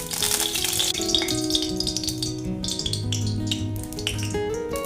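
Mustard oil heats in a wok on the stove, giving a steady bright sizzle and faint crackle with occasional metallic clinks of utensils, close and continuous with no voices.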